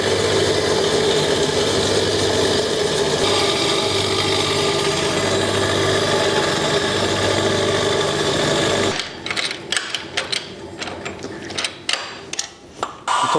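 A quad engine runs with a freshly rebuilt cylinder head, a steady, loud mechanical drone close up for several seconds. It then cuts off and gives way to scattered clanks and knocks.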